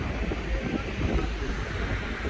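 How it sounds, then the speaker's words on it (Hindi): Cold wind blowing across a ferry deck on a rainy day in Norway, a continuous close rushing hiss with low buffeting rumble and a faint engine drone beneath. "ठंडी ठंडी हवा चल रही है"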